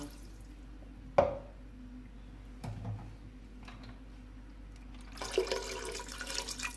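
A couple of metallic clinks, then water pours steadily into a pressure cooker with beef for yakhni pulao, a rushing splash that continues to the end.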